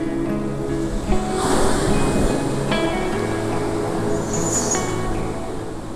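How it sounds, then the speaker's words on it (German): Waves of the Barents Sea break on the shore at Grense Jakobselv in northern Norway. The close surf rumbles and washes continuously, rising in a broad surge partway through, with no speech. "Jetzt kenne ich auch die Wellen der Barentssee."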